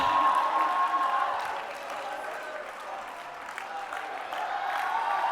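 A large indoor audience cheers and claps at a self-improvement seminar, a steady wash of crowd noise at moderate distance that dips slightly midway before swelling again.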